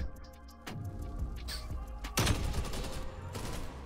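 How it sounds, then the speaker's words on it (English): Enemy hip-firing a rifle in a first-person shooter match, heard as rapid gunfire bursts at mid distance over a steady low game background hum, with a louder burst near the end. "Why is he hip firing everything?"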